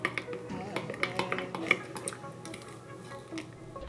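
No-glue slime with contact lens solution being mixed up close, a run of wet clicks, scrapes and clinking taps with a few sharper knocks, steady and fairly quiet.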